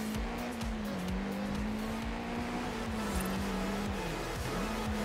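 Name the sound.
Exocet car racing, tires squealing, video game Forza Horizon 5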